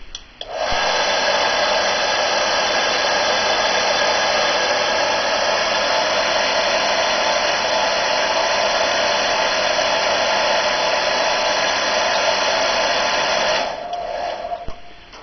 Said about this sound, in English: If I were to at this stage put the hairdryer on